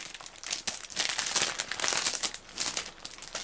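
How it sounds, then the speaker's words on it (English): Crisp plastic shrink-wrap crinkles and tears as it is peeled off a PS2 game box, a close, steady run of rustling crackles that swells and fades over a few seconds, with no talking. "Plastic is coming off."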